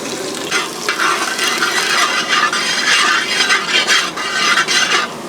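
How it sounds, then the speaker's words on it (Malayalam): Chopped garlic sizzles and crackles in hot oil in an uruli, loud and close, with bursts of frying noise as it is stirred, rising and falling throughout. "ഈ വെളുത്തുള്ളി ഒന്ന് മൂക്കണം"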